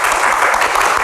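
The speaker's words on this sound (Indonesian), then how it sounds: "Tepuk tangan untuk Seni," Studio audience applauding panelists on a televised Q&A talk show, a dense, loud burst of clapping heard on its own.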